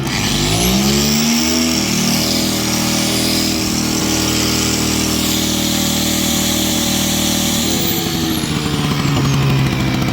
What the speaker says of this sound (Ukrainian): ось такий інверторний генератор потужністю 1 кВт, КД-132